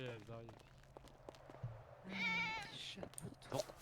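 Several cats meow in GTA V, a few distinct nearby mews and cries scattered between people chatting.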